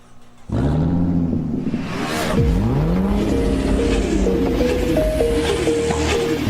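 Car engines revving loudly in a radio advertisement, a sharp rising rev followed by sustained roaring engine noise with sweeping pitch changes, close and dominant, with no talking.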